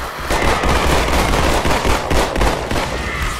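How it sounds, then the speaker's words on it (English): Rapid pistol fire from the video game Halo 2 rattles off in dense, loud, overlapping bursts with sharp repeated cracks across the whole stretch. "Oh my god, these pistols are powerful."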